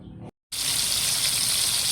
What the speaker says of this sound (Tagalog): ako po ay nagpiprito ng aming pong ulam. Yan po ay isda na dala po ni RJ.